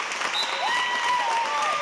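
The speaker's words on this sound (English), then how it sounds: "That cheering you hear in the background, that's Abigail's mom" A mother cheers from the background at an indoor basketball game after her daughter scores her first basket, with bright, excited vocal whoops riding over a steady roar of applause.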